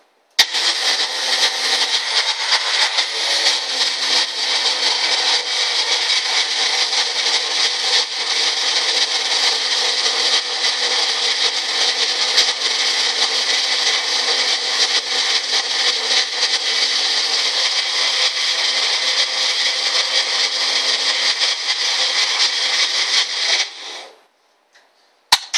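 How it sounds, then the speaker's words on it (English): Bullet blender whirring loudly and steadily for over twenty seconds as it mixes banana protein waffle batter, then cutting off abruptly with a final click. "And then I'm just going to mix this on the bullet."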